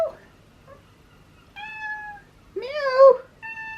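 A cat meows several times, clear close mewing calls in short separate bursts, the longest rising and falling, in a quiet room with no talking.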